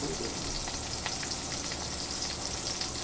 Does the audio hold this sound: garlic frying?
yes